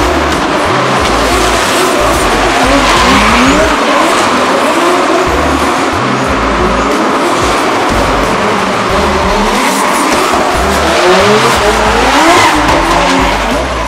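Drift car running Zestino 265/40 tires on high boost at a D1NZ drifting event at Pukekohe, engine roaring and tires squealing continuously and loudly throughout, with no talking.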